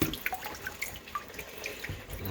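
Water running and splashing in a kitchen sink, irregular drips and trickles close by, moderately quiet, with no talking.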